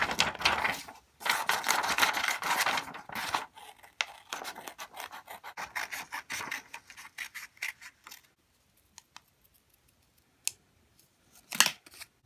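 Scissors snip steadily through a paper cutout of a drawn flipper shape, a close, dry rasping that runs in bursts and then thins into sparse, sharper clips near the end, with no talking.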